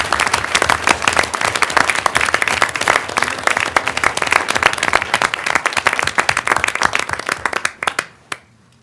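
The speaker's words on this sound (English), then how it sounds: "let's have a last round of applause for" Conference audience applauding at an economics conference session, a sustained dense roar of clapping that stays steady for most of the clip, then thins out and fades away near the end.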